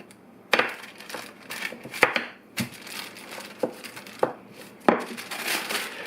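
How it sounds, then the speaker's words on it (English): Pie-style dough for a cinnamon sugar treat being rolled out, close and fairly quiet, with irregular soft thumps and crinkly scraping strokes spaced about a second apart. "You just take this and you're going to roll it out like you're going to do a pie"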